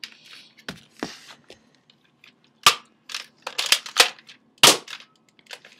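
Nerf N-Strike Maverick toy blaster, a series of sharp plastic clicks and snaps from cocking the blaster and firing a suction cup dart, close and irregular with quiet gaps between them.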